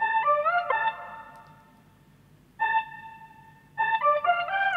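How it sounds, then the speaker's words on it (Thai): A synth string patch from a Logic Pro X remake of a K-pop song plays sustained, bright harmonic chords in three phrases: a longer opening swell, a brief stab, then a fuller return, alone with no voices. "มีตัวที่มันเหมือนแบบเป็นตัวซินที่มันเป็นแบบสตริงนะครับเสียงนี้นะ"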